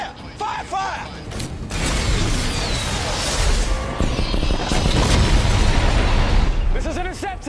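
Missiles launching in a military film scene, with a sustained loud roaring blast and rumbling that builds and holds for several seconds, framed by brief shouted voices at the start and end.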